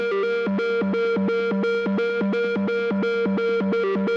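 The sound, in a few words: synthesizer solo with distortion and effects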